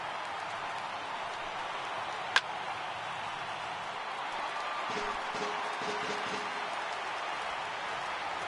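A stadium crowd of over 39,000 in MLB The Show 18 roars as a steady, distant wash of cheering and applause, with one sharp crack partway through and a commentator's voice over it.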